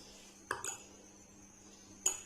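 A cooking pan set down on a stove while making Mughlai mutton curry: one sharp metallic clunk with a second knock just after, then another clank a moment later, close and fairly quiet, with no talking.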